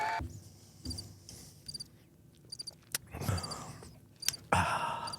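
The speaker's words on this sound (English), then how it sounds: "Crickets." A crickets sound effect in a comedy podcast: faint, high, pulsing chirps come in short repeated bursts, mixed with louder rustles and knocks from the room.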